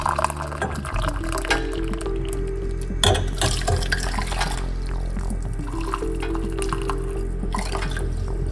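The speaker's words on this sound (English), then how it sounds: "Hot water." Hot water pours and splashes into a cooking pot on a stove set to medium heat, a loud continuous gurgling fill with clinks of cookware and no talking.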